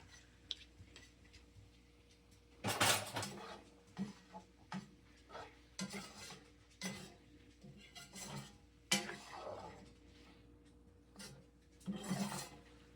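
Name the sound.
spoon stirring chili in a pot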